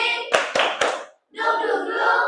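Children do a rhythmic spirit clap in a classroom: three sharp, loud claps in quick succession, a brief pause, then a group chant.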